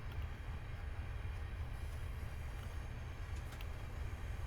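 An HST train passes in Train Simulator 2020, heard as a steady low rumble of rolling stock with broadband rail noise that holds fairly even throughout, fairly loud and without voices.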